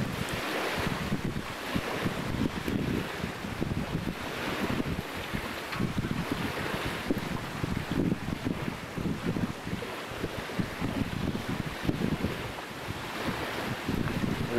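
Wind gusts roar steadily around a full-size vertical-axis wind turbine outdoors in a 10 to 15 mph breeze, with loud buffeting noise on the microphone and no voices.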